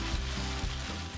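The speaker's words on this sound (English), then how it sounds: "Once the first side of the pork chops is fried and completely brown, then I turned to the other side." Pork chops fry in a pan over medium heat, giving a loud, steady close sizzle with soft pulsing swells.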